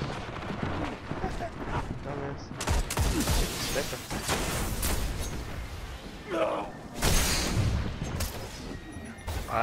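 Weapon fire in the video game Destiny booms and crackles in dense bursts of heavy shots with a few pauses between, loud and close, under someone talking at times.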